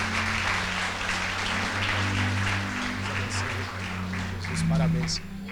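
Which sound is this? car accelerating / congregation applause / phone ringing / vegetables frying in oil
congregation applause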